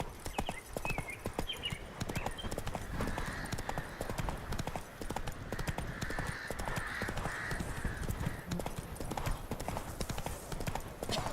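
Horse hooves clip-clop at a steady gallop in The Witcher 3, a continuous rhythmic pounding throughout with a brief whinny, moderately loud and close, with faint game ambience behind.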